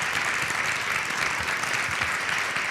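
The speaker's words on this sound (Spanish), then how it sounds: "Un aplauso para Andrés" An audience at a live interview event applauds a guest, a dense, even wash of clapping that holds steady throughout.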